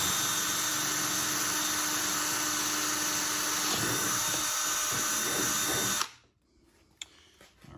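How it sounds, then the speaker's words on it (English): A power drill boring a small hole into wood to thread a scroll saw blade, loud, steady whine running about six seconds, then cutting off to a quiet room with a faint clunk. "Just go ahead and drill a little hole here."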